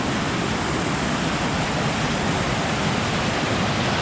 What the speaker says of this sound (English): next to another really loud waterfall